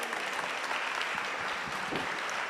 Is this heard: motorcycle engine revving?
no